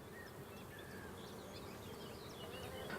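Honeybees buzz in a dense, steady drone over a hive frame where they are building wax comb, close and continuous with occasional individual wingbeats passing.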